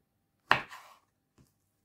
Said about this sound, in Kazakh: Мен осылай 4-5 топ турап алам. Осылай 4-ке бөліп бананды.